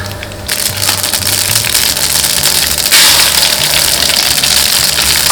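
About 50 grams of mustard seeds drop into 300 grams of hot oil in a large pot cooked for a crowd. They give a loud, dense, continuous crackling and sizzling that swells slightly halfway through.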